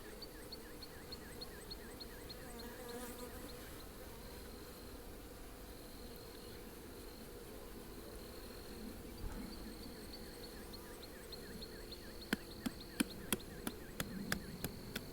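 A steady, low hum of honey bees buzzing together at the hive, with a few sharp clicks and taps near the end; no talking.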